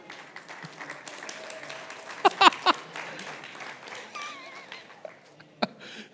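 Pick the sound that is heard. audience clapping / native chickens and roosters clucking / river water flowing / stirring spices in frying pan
audience clapping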